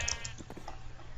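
A sheep bleats in a blocky survival building game, several short nasal cries over faint background game ambience, with no talking.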